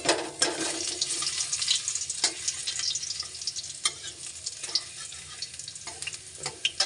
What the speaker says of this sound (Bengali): তেজপাতাটা দিয়ে দিলাম তারপরে রসুন কুচি দিয়ে দেব